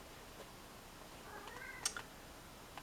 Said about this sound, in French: c'est mon petit chat